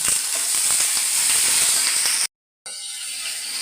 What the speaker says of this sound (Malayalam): ഇനി എണ്ണയുണ്ട്, ഇതിനകത്തോട്ട് അല്പം കടുകിടാം.